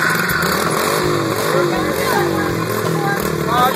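A motorcycle engine revs and runs steadily close by, filling the whole stretch, with people chatting over it near the Paulinskill Viaduct in New Jersey.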